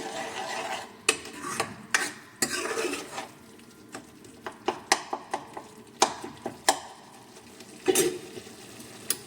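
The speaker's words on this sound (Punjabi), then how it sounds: "ਹੁਣ ਅਸੀਂ 2 ਮਿੰਟ ਨੂੰ ਫਿਰ ਭੁੰਨਾਂਗੇ ਜ਼ਿਆਦਾ ਸੇਕ ਤੇਜ਼ ਨਹੀਂ ਕਰਨਾ ਸਲੋ ਹੀ ਰੱਖਣਾ ਸਪੀਡ ਨੂੰ" Palak paneer mixture stirred and roasted over low heat in a pan, with a spoon scraping and clinking against the metal in irregular taps over a soft, steady sizzle, close and moderately loud.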